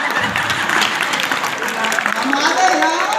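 Applause from the audience at a Hindi comedy poetry gathering, a dense, steady patter of many hands clapping at once, with a voice speaking over it.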